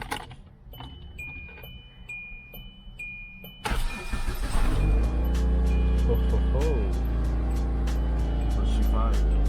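A Hyundai Santa Fe engine cranks and fires up after a wiring harness repair, with a fuse replaced: faint chimes and clicks, then a loud start that settles into a steady close idle.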